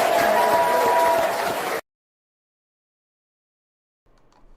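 Audience applause at a public political gathering with hundreds of citizens, a short burst of dense clapping that cuts off abruptly into silence, followed by faint noise.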